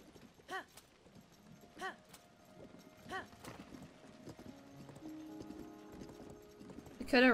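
Horse hooves clop in a few separate, spaced footfalls amid quiet ambience in Zelda: Tears of the Kingdom, ending in a brief louder burst.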